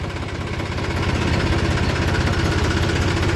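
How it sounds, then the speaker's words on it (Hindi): A tractor engine chugs steadily in second gear in a farm field, with a loud, close, rhythmic low knocking throb that holds even throughout, no voices heard. "तो ये आज तो दूसरे गियर में ही आ गया ट्रैक्टर"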